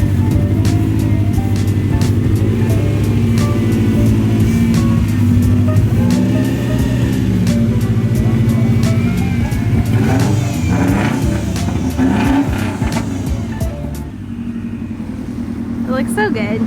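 A Subaru WRX boxer engine, on a wrecked car being rebuilt, rumbles steadily and close by with a few revving swells. Voices talk over it throughout.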